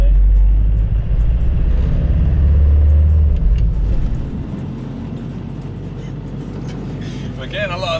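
A Ford Transit van drives along with a heavy, loud engine rumble that eases after a few seconds into a steadier road drone, with people talking over it.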